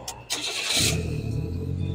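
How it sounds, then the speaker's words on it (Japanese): A car engine fitted with a boost controller cranks briefly with a whirring starter, then catches and settles into a steady, low idle rumble close by. "そして現に今、エンジンをかけると、"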